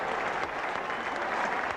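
Cricket crowd at a 1979 World Cup match between England and Pakistan applauding the Pakistan captain's fifty, a dense, sustained wash of clapping from a large stadium audience.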